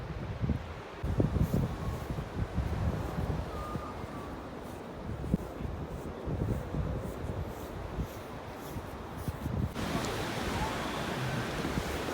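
Ocean waves washing against the Great Ocean Road coast, a continuous roar of surf mixed with gusty wind buffeting the microphone, steady and fairly loud throughout with no voices.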